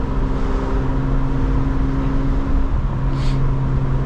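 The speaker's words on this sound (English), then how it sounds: "this car sounds so good" A 2025 BMW M4 Competition engine while driving, a steady low drone and tonal hum heard from inside the cabin, holding an even level with no talking.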